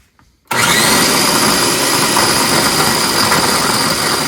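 A small electric grinder grinding mushrooms whirs on abruptly after a moment of quiet, running loud and steady without pause.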